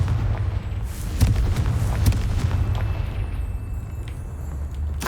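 Blasting Confringo spell from Hogwarts Legacy, a sustained rumbling explosion with sharp crackling bursts and debris, loud and continuous over a heavy low-frequency roar.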